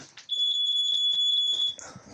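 A smoke alarm in a house beeps as one steady, shrill electronic tone lasting about a second and a half, loud and close, while someone moves around nearby.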